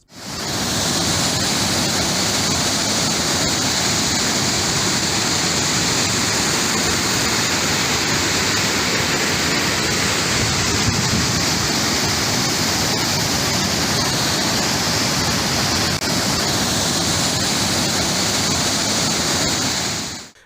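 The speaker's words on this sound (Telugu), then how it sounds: "మలక్పేటలో కూడా బ్రిడ్జిని తాకుతూ నీళ్లు కిందకు ప్రవహిస్తున్నాయి" A loud, continuous roar of the flooded Musi River rushing under a bridge at Malakpet after heavy rains, steady and dense throughout with no pauses.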